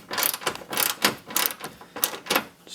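A ratchet clicks in repeated bursts while loosening a bolt on a Subaru WRX headlight, with rapid, close, fairly loud metallic ratcheting in a steady back-and-forth rhythm and no talking.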